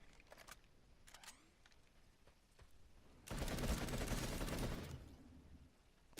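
Gunfire in the PlanetSide 2 practice area on PS4, with a few scattered clicks and shots and then a loud sustained burst of rapid automatic fire lasting about two seconds.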